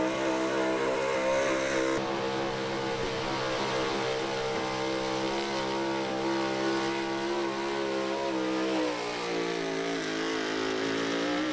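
A big block 4x4 pulling truck roars off the line at a truck pull in Fishersville, Virginia, its engine revving loudly and continuously with rising, straining harmonics over a steady crowd-event din.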